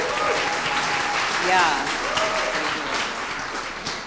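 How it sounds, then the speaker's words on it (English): A political event crowd applauds and cheers, dense sustained clapping that stays loud throughout, with voices calling out over it. "can we just clap it up for the war score here?"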